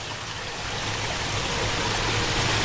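Water runs between rocks amid plants and trees in an indoor rainforest exhibit in Tulsa, a steady, close, even rushing and trickling flow heard alone throughout.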